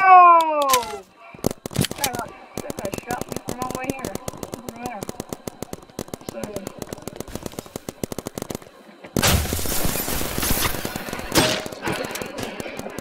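Rapid bursts of gunfire in a paintball video game, sharp repeated shots in quick rhythmic strings, with a denser, louder burst of noisy firing near the end and a voice briefly audible at the start.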